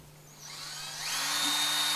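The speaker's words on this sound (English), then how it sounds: "move the drill back and forth to load properly" A power drill turning a Super Spooler to wind fishing line spins up into a steadily rising whine that settles into a thin, even hum. It is fairly quiet, close and alone.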